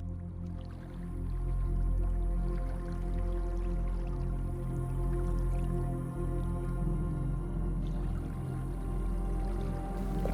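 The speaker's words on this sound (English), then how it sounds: "People may think we just sitting here pouring some tea" Tea is poured steadily during a ritual, making a continuous close liquid splashing and dripping sound that lasts several seconds with no talking.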